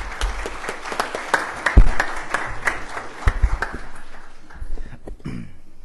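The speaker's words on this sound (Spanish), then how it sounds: "Recíbanlo con un aplauso, por favor." A conference room full of people applauds a speaker, a dense burst of clapping that swells, then thins out and fades near the end.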